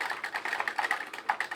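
Rapid, steady typing on the keyboard of an Atari 1200XL home computer, close and clear, with distinct clicky keystrokes in an even rhythm and no voices.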